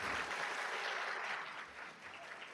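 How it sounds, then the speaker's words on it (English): An audience at a community college honor society induction and student awards ceremony applauds, steady clapping from a crowd heard at a distance that tapers slightly toward the end. "Please give her another round of applause."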